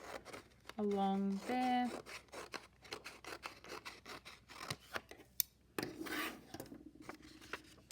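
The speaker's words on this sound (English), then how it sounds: "So we're now going to cut along here to make this big green square." Scissors snip through a sheet of green paper to cut out a large square, with a series of crisp, close cuts and paper rustling. A person talks quietly over part of it.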